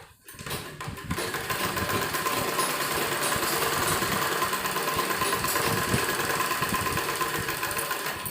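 A sewing machine stitches a sleeve in a continuous, steady mechanical whir heard up close, starting after a brief pause and running without a break.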